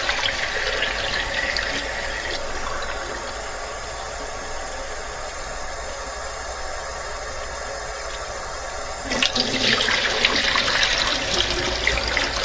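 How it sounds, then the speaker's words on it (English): Cold tap water runs steadily over Super 8 black-and-white film developed in Caffenol as it is rinsed, a continuous trickling splash that swells louder near the end. "wash in cold water until it comes out clear"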